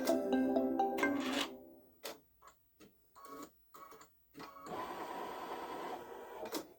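A Babylock Solaris Vision embroidery machine stitches an edge-to-edge Halloween gnome quilt, giving bursts of rapid mechanical stitching broken by short pauses and clicks, then a steadier run of stitching toward the end.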